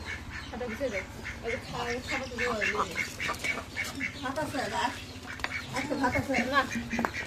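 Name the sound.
ducks quacking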